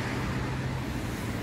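Traffic rumbles steadily at a Dutch bus stop, a low continuous roar of passing cars and other road vehicles with no distinct single pass-by.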